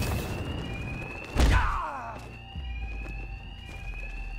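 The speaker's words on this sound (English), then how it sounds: "Two-Face's thugs won't hear me over the alarm." Alarm ringing in Batman Arkham Knight: a steady, loud electronic alarm tone sounds continuously through the scene, with a heavy thud and game action noises layered over it.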